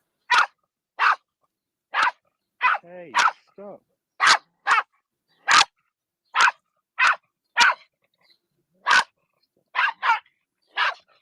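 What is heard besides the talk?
small dog barking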